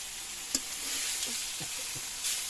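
Fish frying in hot oil, a steady broadband sizzle with a couple of sharp spitting pops as the oil splatters, close and fairly loud, with no voices.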